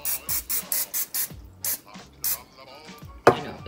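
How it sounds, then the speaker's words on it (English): Several short hissing bursts of butter-flavored cooking spray into a pan in quick succession, followed by clattering and a sharp knock as something is set down nearby. "I'm going to use some butter flavored cooking spray and spray it."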